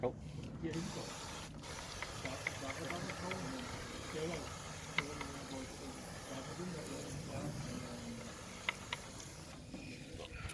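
Wheel cleaner is sprayed onto the wheel of a McLaren 720S in a series of short hissing bursts, fairly faint against a steady background hiss, with a few small clicks from the trigger.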